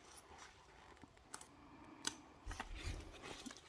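Quiet, close snips of scissors trimming excess zipper, a few sharp clicks followed by a short run of crisp cuts.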